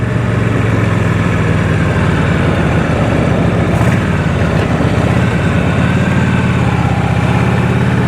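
A 1986 Harley-Davidson Liberty motorcycle runs with a loud, continuous, throbbing engine roar, and any rattle from the rear saddlebag on its bag rail bracket is buried in the engine noise.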